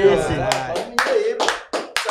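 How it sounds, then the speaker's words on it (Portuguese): A handful of sharp claps land in an uneven rhythm in a podcast studio, welcoming a guest, with voices talking and laughing over and between them. "Salve de aplauso pro"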